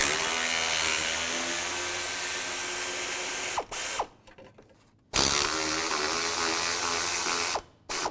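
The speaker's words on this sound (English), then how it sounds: "there's two bolts on both sides of the radiator. Take those out. Use a 10mm socket." A ratchet with a 10mm socket works radiator bolts loose on a 2002-2009 Chevy Trailblazer: a close, steady buzzing clicking that runs for several seconds, stops briefly, then resumes.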